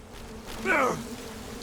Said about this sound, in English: They shooting bees at me?